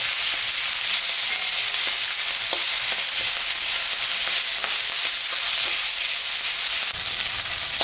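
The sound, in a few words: onions and green chillies frying in oil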